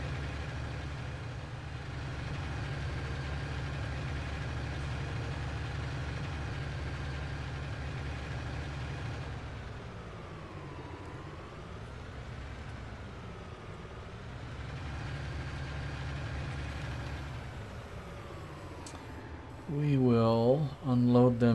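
A tractor idles in Farming Simulator 19, a steady low engine drone with a few slow dips in pitch, fairly quiet, and a brief musical tone appears near the end.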